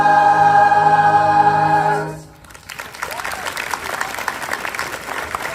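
At a school moving-on ceremony, a sustained sung chord from a 7th and 8th grade choir ends, then audience applause rises after a brief lull and continues steadily as a full, crackling wash of clapping.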